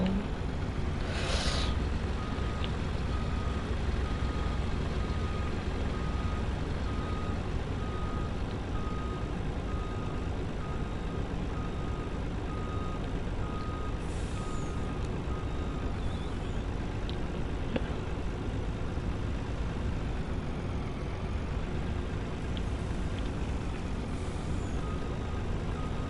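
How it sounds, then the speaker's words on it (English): A truck in Farming Simulator 19 idles with a steady low engine drone while it turns around and reverses, evenly spaced reversing beeps repeating throughout, and a few short hisses of air brakes, with no talking. "I'm gonna grab the truck. And I'm gonna turn this thing around."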